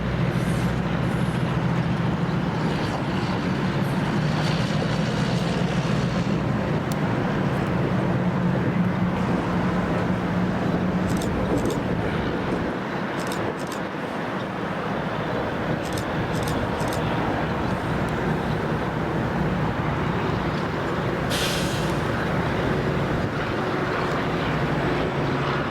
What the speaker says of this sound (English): The only movement we got was them moving their GMD-1 across the parking lot